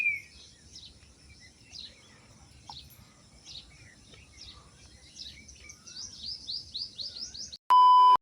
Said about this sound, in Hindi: कितनी खूबसूरत चिड़ियाँ आवाज़ निकाल रही हैं